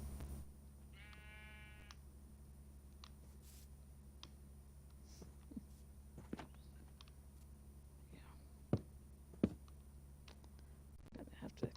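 Sheep bleat in a video game, one clear wavering bleat near the start over a steady low hum, followed by scattered clicks and a few sharp taps, with whispery talk underneath.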